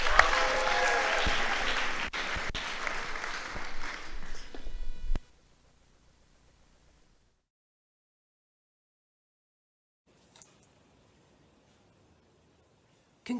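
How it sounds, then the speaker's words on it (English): Audience applause at a UWC Atlantic graduation and leavers ceremony for the class of 2021, a dense burst of clapping that cuts off after about five seconds and leaves near silence. "Please give a round of applause for Jill."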